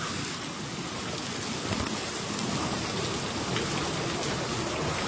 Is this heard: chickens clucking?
no